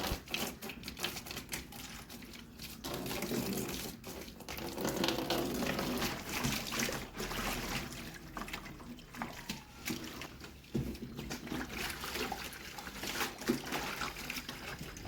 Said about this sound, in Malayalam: ഇനി നമുക്കിതൊന്ന് കഴുകി ഇതിനകത്തേക്ക് വെള്ളം നിറയ്ക്കാം. ഈ ഫ്രിഡ്ജ് കഴുകാം.